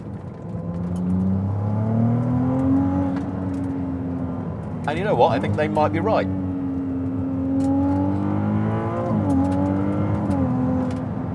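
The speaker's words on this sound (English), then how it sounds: "Certainly, to me, this engine sounds as nice as a turbocharged 8." A Ferrari 296 GTB with its 819 bhp hybrid twin-turbo V6 revs and accelerates, the rising engine note climbing in pitch and briefly spiking louder midway, with someone talking over it throughout.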